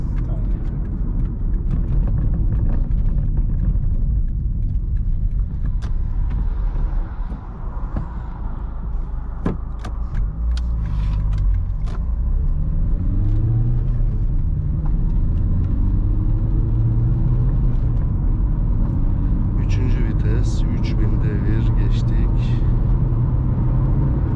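A Toyota Auris 1.4 D-4D diesel car engine rumbles at idle, then accelerates hard from 0 to 100, its pitch climbing through several gear changes. Faint knocks and rattles come from inside the cabin.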